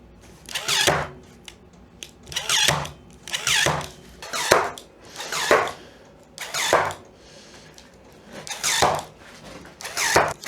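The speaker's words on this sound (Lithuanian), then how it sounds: "vyrius prisisukom su standartiniais varžtais" A power drill drives standard screws through hinges in a garage, roughly eight short whirring bursts at a steady pace with brief pauses between, close and fairly loud, no talking.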